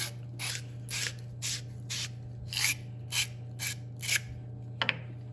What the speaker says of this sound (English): So we use our pipe cleaner. Give it a couple spins.